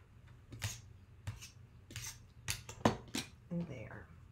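Scissors trimming quilt fabric during a quilting class, a series of short crisp snips in an uneven rhythm, fairly close but quiet, with faint handling noise around them.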